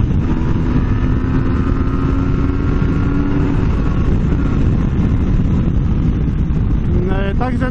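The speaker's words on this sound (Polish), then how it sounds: "Motocykl przyspiesza natychmiastowo." A Yamaha MT-09 Tracer motorcycle accelerates hard, its engine a dense, steady loud drone with rising tonal whine near the end, heard up close over heavy wind noise.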